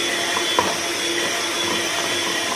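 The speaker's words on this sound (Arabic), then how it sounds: "المقادير اللي معانا دي، هضربها بالمضرب كويس علشان الزبدة بتاعتي تدوب معايا" A hand mixer beats butter and other ingredients in a kitchen bowl, a steady close whirring drone that runs without pause, with faint clicks of the beaters against the bowl.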